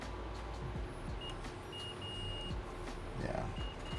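Continuity-test beeps from a multimeter probing a laptop motherboard for shorts across inductors, heard as short steady tones in quick succession over a constant low background hum, fairly faint.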